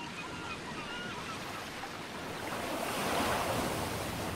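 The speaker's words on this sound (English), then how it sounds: "Strong winds whip across the wide lake basin, stirring up waves." Strong wind drives waves across a wide lake basin, a dense rushing wash of surf and wind that swells louder toward the end, with no voices.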